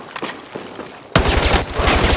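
Automatic gunfire erupts in Battlefield 6, a loud, rapid stream of shots kicking in after a second of quieter scattered pops and continuing without pause to the end.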